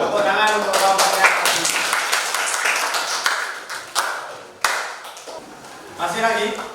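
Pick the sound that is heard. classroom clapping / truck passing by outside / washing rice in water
classroom clapping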